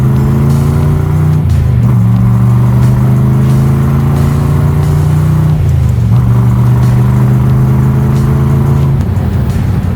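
A restored 1965 Chevrolet Corvette L79 convertible accelerates on a straight road, its V8 loud and close, climbing in pitch, dropping at a gear change, then climbing again.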